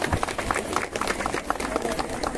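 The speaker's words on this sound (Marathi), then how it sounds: "जोरदार टाळ्या होत आहेत" A crowd claps steadily in honour of the contractor who built the Shri Kalikai temple at Upale, Rajapur, Ratnagiri, a brisk, even patter of many hands throughout, with voices mixed in.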